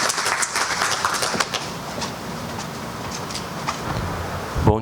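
Moderate audience applause for a speaker at a seminar opening in an auditorium, fairly distant and fading after the first seconds into scattered clapping and room noise.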